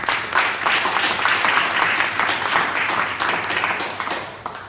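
Applause from the audience at a Toastmasters club meeting, a brisk burst of many hands clapping that fades out toward the end.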